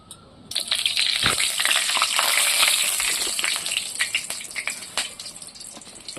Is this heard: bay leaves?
yes